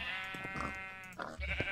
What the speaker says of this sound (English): I'm coming for these sheep